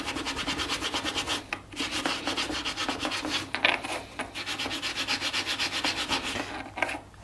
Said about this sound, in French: Un petit coup de paille d'acier sur le cache-poussière.